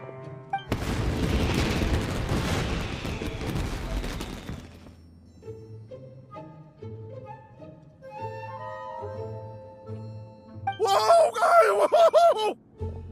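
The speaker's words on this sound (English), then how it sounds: "Yoimiya, this is turning into a bit of a fireworks display." Fireworks from a batch crafted by Yoimiya burst in Genshin Impact, a long crackling roar up close that gives way to music, followed by a shorter crackling flurry as a voice exclaims.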